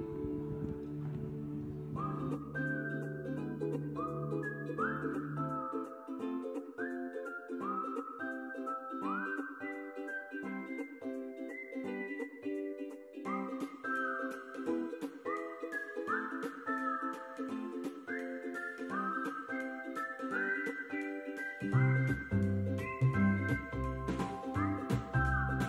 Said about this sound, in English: How many of you found yourself whistling along with that?